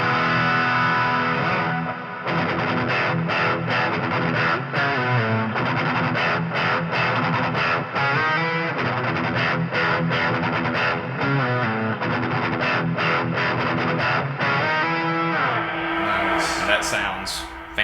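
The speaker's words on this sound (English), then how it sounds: "so the Fender Champion 20, as far as we can tell, you've added some reverb, some delay, lots of overdrives" Electric guitar played through a Fender Champion 20 amp with heavy overdrive, reverb and delay: loud, thick distorted chords and riffs ring continuously, trailing into echoing repeats that fade near the end.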